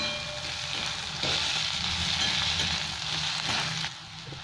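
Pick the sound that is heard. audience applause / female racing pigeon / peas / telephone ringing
peas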